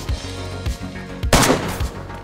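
Gunfire in the survival video game DayZ during a PvP event, a series of sharp shots in an irregular rhythm with one louder, more explosive burst in the middle, heard up close.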